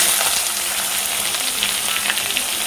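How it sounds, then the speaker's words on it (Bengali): Onions frying in hot oil with garlic and dried chilli give a bright, steady crackling sizzle close by, with small pops throughout and no talk. "পেঁয়াজটা ভাজা ভাজা হোক।"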